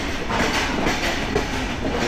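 Padma Express passenger train running through the night between Dhaka and Rajshahi, a steady, loud, close roar of wheels and carriages with a continuous rumble and no break throughout.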